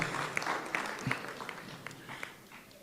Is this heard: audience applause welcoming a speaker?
yes